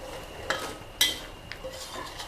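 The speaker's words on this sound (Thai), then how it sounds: "ผัดมะเขือให้สุกระดับหนึ่งก่อนนะคะ" Eggplant being stir-fried with green curry paste in a pan, heard as a faint sizzle under two or three sharp utensil scrapes and clinks against the pan, close by, with no talking.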